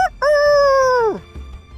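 A person vocally imitates a rooster, giving one loud, close, drawn-out crow with a short lead-in and a sharp drop at the end, followed by quiet background.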